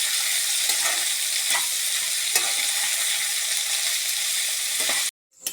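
Kantola (spiny gourd) frying in oil in a pan gives a steady, loud sizzle with occasional stirring scrapes, then cuts off abruptly to silence near the end.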